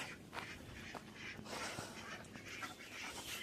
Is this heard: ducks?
yes